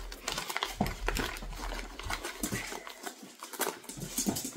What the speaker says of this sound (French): vous allez entendre des bruits derrière, des bruits de fond, mais c'est mon chien qui a décidé de faire son quart d'heure américain